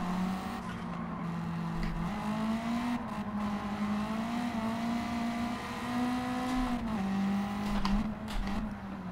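Race car engines in the Gran Turismo 7 video game drone steadily with slowly shifting pitch, a sustained loud hum that rises and falls slightly as the cars run.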